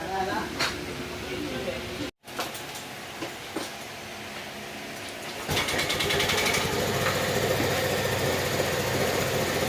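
A motorcycle engine idles with a rapid, rattling putter, briefly cut off, then revs up into a louder, rougher steady run while someone speaks.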